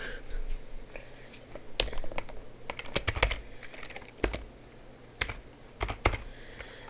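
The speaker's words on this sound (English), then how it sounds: "Then what you want to do is you want to type in board." Computer keyboard typing while setting up a boarded door in the Hello Neighbor Mod Kit: irregular clusters of close, crisp key clicks with short pauses between bursts, no voice.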